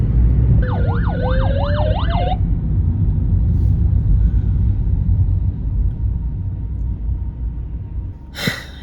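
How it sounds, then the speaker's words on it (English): An ambulance siren wails on a road in Sydney, a loud rising-and-falling tone lasting a couple of seconds over steady car-interior road rumble, then fading away. "is that an ambulance?"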